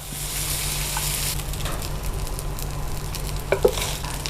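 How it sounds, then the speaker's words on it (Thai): Bean sprouts stir-fried in a hot pan for a Thai crispy mussel pancake dish, a loud, continuous sizzle with scraping stirs and a couple of sharp utensil clacks near the end. "คราวนี้ก็ผัดถั่วงอกได้เลยครับ"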